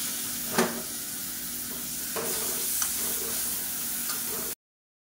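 Blended onion paste sizzles in hot oil in a pan while a drumstick thokku is being cooked. The frying hiss stays steady, a few sharp stirring scrapes and ticks break through it, and the sound cuts off abruptly into silence.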